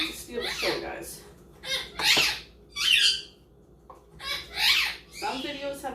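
Pet parrot named Cricket squawks in several loud, harsh bursts near the microphone, with other bird calls between them over a quiet indoor background.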